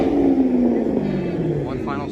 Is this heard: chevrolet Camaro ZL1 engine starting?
yes